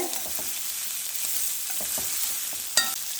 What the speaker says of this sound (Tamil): எண்ணெயில் நல்லா வதக்கிடலாங்க